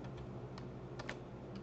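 Typing on a computer keyboard, a short burst of scattered, soft key taps at close range over a low steady hum.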